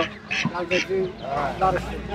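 Three ducks for sale at a village market in Ghatail, Tangail, giving a few nasal quacks and honks close by while people talk over them.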